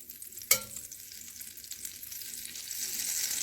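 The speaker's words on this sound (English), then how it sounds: "in our pan here, we're going to just melt our butter" Butter melts in a frying pan for chicken fricassee, starting with a sharp clank of the pan and building into a bright, crackling sizzle that grows steadily louder.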